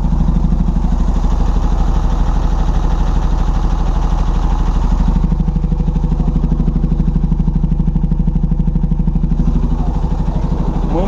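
A bus engine idles at a bus exhibition in Brazil, a loud, steady low rumble with even mechanical clatter that persists unbroken, shifting slightly in tone partway through.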